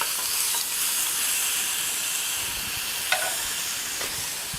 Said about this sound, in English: Don't you just love the sound of that sizzle?